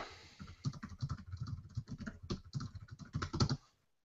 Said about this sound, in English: That is some very serious typing.